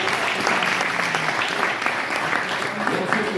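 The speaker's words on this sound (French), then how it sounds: "Donc, applaudissez-la," An audience at a public talk in Rome claps steadily throughout, a dense, even wash of applause that stays at one level with no break.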